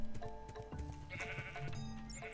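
Sheep bleating in the Minecraft video game, with a few short, clear bleats that repeat close by over quiet game background sounds.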